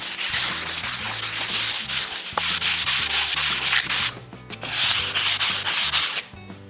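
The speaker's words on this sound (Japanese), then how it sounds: "合板は結構毛羽立ちがあるので、ざっくりでいいんで先に紙やすりで取っときます。" Close, rhythmic rasping of sandpaper rubbing back and forth over plywood, in long steady strokes with brief pauses.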